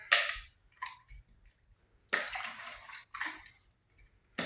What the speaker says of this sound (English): I'll give them a good rinse before I put them in the pan